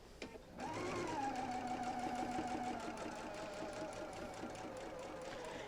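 A sewing machine stitches a quarter-inch seam on a Double Wedding Ring quilt, starting after a brief pause and then running as a steady, close, continuous whir with no talking.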